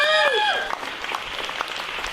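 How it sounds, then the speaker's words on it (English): A room full of people applauds and whoops, steady dense clapping with a few shouts near the start, loud and close throughout. "Give yourselves a round of applause."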